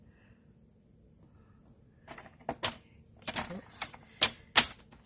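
Cardstock being trimmed on a paper trimmer, heard as a series of short, sharp slicing and clacking strokes close by, with a quiet voice briefly speaking.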